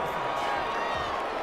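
Stadium crowd noise in the Madden 21 football game during a Chicago Bears vs Atlanta Falcons goal-line play, a loud continuous roar of many voices filling the whole moment.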